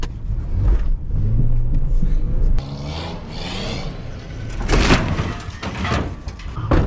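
A cheap old Ford's engine is pushed to full throttle for a burnout inside a shipping container, roaring loud and close with surging revs and a sharp burst near the end.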